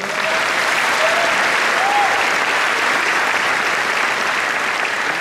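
An audience applauds steadily at a Slovenian ensemble presentation, a dense even wash of clapping from a crowd throughout, with a few faint whistles in the opening seconds.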